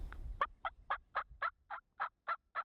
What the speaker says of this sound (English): Did y'all just hear a gobble